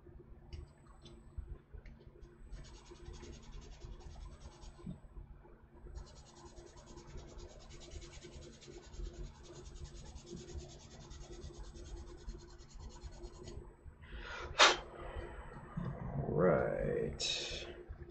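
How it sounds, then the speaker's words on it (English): Rasping rubbing strokes of a sanding block against a hard plastic model kit part come in bursts, with quiet handling noises and a louder scrape toward the end. "take our good old sanding block"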